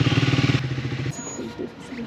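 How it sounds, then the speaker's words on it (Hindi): A motorcycle with about 6000 km on it, a rapid, pulsing engine thump close by that shifts into a rougher, uneven running sound, with no talk over it. "6000 किलोमीटर चल चुकी है गाइस मेरी बाइक।"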